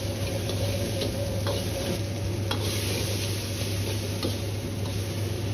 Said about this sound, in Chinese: 保持中小火拌炒，大概需要30秒钟左右。